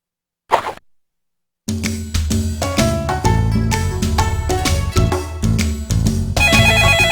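A phone rings during an important moment, a loud repeating electronic melody with a steady beat that starts after a brief plop and then continues without pause, with no talking over it.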